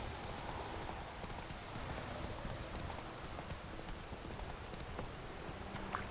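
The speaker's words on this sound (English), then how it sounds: "Let it rain." Steady, soft rain falls in The Witcher 3, an even hiss of drops on surfaces that continues unbroken with no voices over it.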